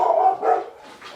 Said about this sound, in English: I'm sorry if you can hear the dog next door barking